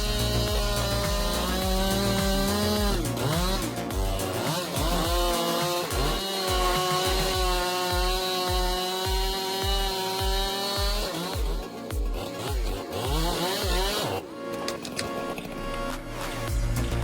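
A handheld chainsaw cuts into an old pine tree over 100 feet tall, its engine snarling and revving up and down in a loud, close, continuous roar with rhythmic bogging as the teeth bite into the wood.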